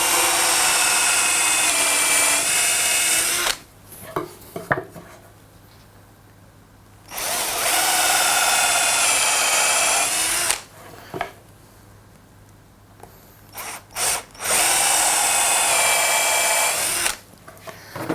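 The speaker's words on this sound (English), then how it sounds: "all we're going to do is make the hole, the pilot hole for our screws" A power drill with a countersinking bit bores screw pilot holes into wooden handle ends for a portable toolbox, three loud, steady whirring bursts of a few seconds each, separated by quiet pauses with light handling clicks.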